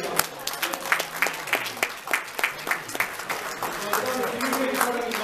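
Applause from an audience at a church council's general meeting, a steady patter of many hands clapping at close range that carries on evenly throughout.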